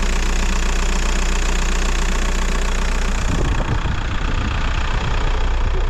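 A VW Bora 1.9 TDI diesel engine idles with a steady, even clatter close by, its low rumble shifting slightly partway through but staying continuous throughout.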